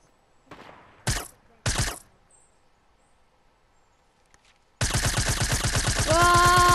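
Gunfire in a video game: two sharp, loud single shots, then after a pause a sustained rapid automatic burst that runs to the end.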